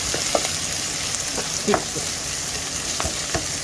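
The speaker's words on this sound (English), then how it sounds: "I'm gonna saute that" Garlic cloves and a small piece of ginger sauté in a pot for a fish and crab stew, giving a steady close sizzle with a few scraping stirs and clanks and no talking.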